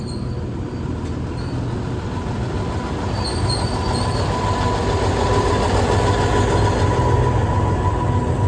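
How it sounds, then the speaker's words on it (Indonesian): A train on the Adi Sumarmo airport line rolls into Caruban station with a steady rumble, growing slightly louder, and faint high wheel squeals run over the top; no voices. "Jadi ini dia rangkaian kereta Bandara Adi Sumarmo pagi ini."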